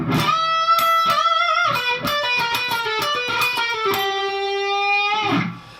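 A distorted electric guitar plays a fast rock lick, with quick picked notes and sustained bent notes, loud and upfront, ending on a fading held note.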